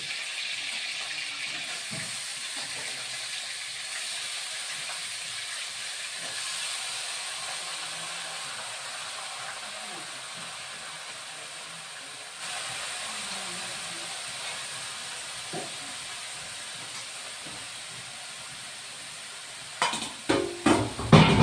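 Cabbage dropped into a hot pan of oil while cooking at home, giving a steady broad sizzling hiss that runs throughout, with a few clattering stirs near the end.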